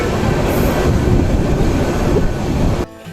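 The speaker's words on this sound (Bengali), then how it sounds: "দেখতে পাচ্ছেন লালমনি এক্সপ্রেস বোনারপাড়া রেলওয়ে স্টেশনে এসে পৌঁছেছে।" Lalmoni Express rolls loudly into Bonarpara railway station in Bangladesh with a dense, close rumble of wheels and carriages that stops abruptly just before the end.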